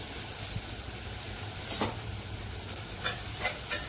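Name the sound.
onions sautéing in oil in a kadai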